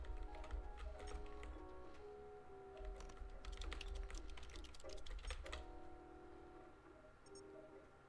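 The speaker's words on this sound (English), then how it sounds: "I'm just a cat walking on the keyboard." Soft irregular key clatter from a computer keyboard as a cat walks across it in the video game Stray, a quick cluster of taps in the middle over a quiet steady background hum.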